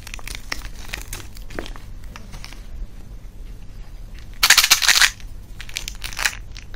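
Candy and chocolate wrappers, including lollipop and Gems toffee packets, crinkle and rustle close by in scattered bursts, with one louder crackling stretch of crumpling partway through.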